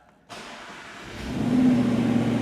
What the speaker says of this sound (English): You can hear that familiar V8 sort of rumble, and it's so smooth.